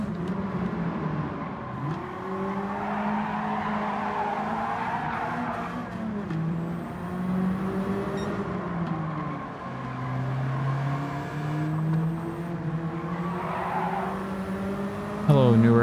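A Nissan Silvia S14 race car in Gran Turismo 7 revs steadily, its engine note rising and falling through gear changes while tires skid and squeal through corners, loud and continuous for the whole stretch.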